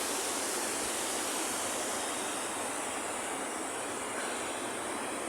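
Steady, dense roar of the Ramboda waterfall near Nuwara Eliya, Sri Lanka, a loud broadband wash of falling water that fills the whole clip without pause or voices.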